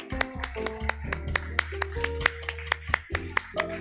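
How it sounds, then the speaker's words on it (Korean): A church congregation at a Sunday service claps, with sharp hand claps ringing out in an irregular rhythm over sustained tones, heard nearby for a few seconds. "선물 받으실 때 우리 한 번 더 큰 박수로 환영해 주시기 바랍니다."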